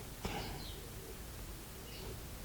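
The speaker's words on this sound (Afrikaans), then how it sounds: "Ons word stil en hoor ons die voëls hier buite," Birds call outdoors on a winter morning: a few soft chirps and coos rise faintly from a steady background hush, with no voices.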